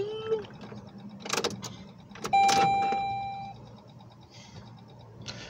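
A dying car, stalled while out on pizza deliveries in hot weather, gives a steady electric buzz as the key is turned, a sustained tone running about a second under scattered background noise.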